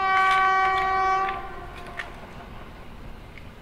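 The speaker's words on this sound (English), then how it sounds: "Red color bullet train." A red toy bullet train sounds a loud, tonal horn for about a second, then fades into quieter rumbling and a few light clicks.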